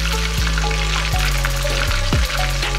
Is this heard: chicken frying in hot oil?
yes